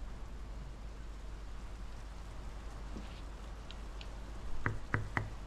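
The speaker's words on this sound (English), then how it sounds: "The rain's picking up." Steady rain falls in the video game Draugen as a continuous hiss, with a few brief knocks and clicks near the end.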